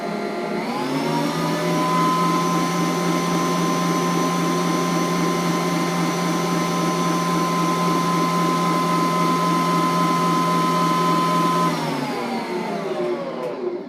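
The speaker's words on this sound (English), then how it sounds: "we're going to whisk this all together" Electric mixer whisking cake batter for an angel wings cake, with a steady, loud motor whir that runs unbroken for about twelve seconds before winding down and stopping.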